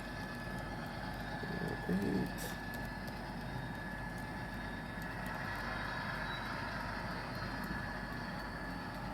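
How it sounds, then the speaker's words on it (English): A Via Rail model train rumbles steadily along a layout and passes through a partly built tunnel, giving a continuous low mechanical whir and clatter at even volume throughout, with no talking. "the effect of the train going off and coming back out of the tunnel, even though it's not even a full tunnel yet, really works"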